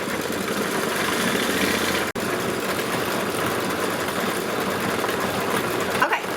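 A Kimberbell embroidery machine stitching a flower design with turquoise-teal thread. It hums steadily and continuously up close, with one brief break near the middle, and there is no speech.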